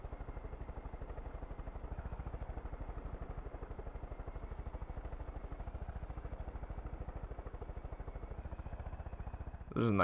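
Helicopter flying in Far Cry 5, a steady rapid rotor chop with a low engine hum that holds constant throughout at moderate level, ending with a brief sharp noise.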